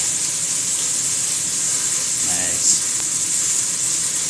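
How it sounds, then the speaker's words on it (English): Kangaroo tail sizzles in a hot pan with a steady, close frying hiss, broken by one faint squeal near the end. "Sizzling kangaroo tail."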